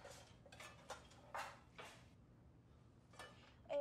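Pots and pans clatter and clank in a kitchen cupboard during a search for a frying pan, several sharp metallic knocks spaced irregularly, fairly quiet and close, ending in a louder bang.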